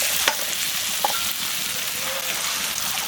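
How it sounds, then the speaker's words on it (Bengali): Pieces of mutton dropped into onions frying in oil, giving a steady close sizzle with a couple of sharp crackling bursts as the meat hits the pan and is stirred. "আমার পেঁয়াজ থেকে আমার তেল ছেড়ে দিয়েছে, দেখুন। এবার মাংসগুলোকে দিয়ে দেব।"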